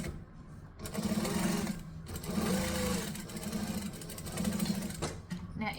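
A sewing machine top stitches fabric at an eighth of an inch, running close and steady with a rhythmic humming whir that pulses in short bursts over several seconds, with no talk.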